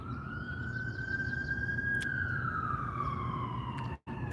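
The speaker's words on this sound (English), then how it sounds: "Oh, maybe the wrong kind of siren. Looks like an ambulance." A wailing ambulance siren sweeps slowly up and down in pitch, loud and steady over a rumbling road, cutting off abruptly near the end.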